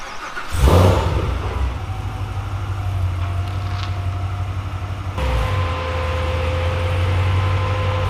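A Chevrolet Camaro ZL1 pulls in with a sharp rev at the start, then settles into a loud, deep idle, with a second blip of the throttle midway before the engine rumbles on steadily.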